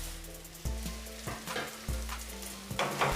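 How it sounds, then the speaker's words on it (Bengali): Flattened rice fries in a pan with fried onion, green chilli and egg, a steady close sizzle broken by several scraping stirs, with no talking. "বেশ মুচমুচে করে ভেজে নেব।"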